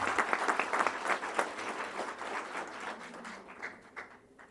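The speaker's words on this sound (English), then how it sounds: "Let's give him a round of applause" Audience applause at a school board meeting, a steady wash of clapping from a seated crowd, moderately distant, tapering off toward the end.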